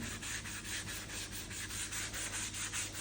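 Hand sanding body filler on a car body with a 180 grit block, heard as steady back-and-forth rubbing strokes in an even rhythm, close but soft, with no voices.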